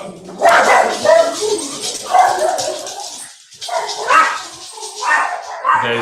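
Several dogs bark and yip in repeated bursts close to the microphone, the loud barks overlapping one another in an uneven rhythm.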